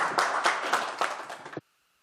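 Applause rises from members and officials at a city council environment and welfare committee session, a short, moderately loud patter of clapping that thins out and stops abruptly, followed by near silence.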